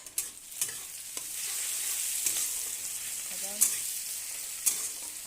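Potatoes and onion fry in a pan on a gas stove, a steady broadband sizzle running throughout with several sharp stirring clatters; a faint voice is briefly heard.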